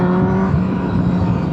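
Motorcycle engine revving hard and steadily, a loud, close, continuous snarl with a sustained droning tone that holds throughout without pause.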